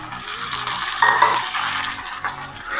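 Taro pieces fry in a pan with onions, curry leaves and green chillies, a steady close sizzle with stirring scrapes and a brief louder crackle burst partway through.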